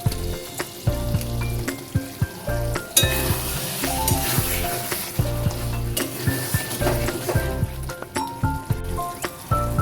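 Soybean dopiaza gravy sizzles and bubbles steadily in a pan as garam masala powder goes in, with frequent stirring scrapes and clinks of a utensil against the pan, close and fairly loud throughout.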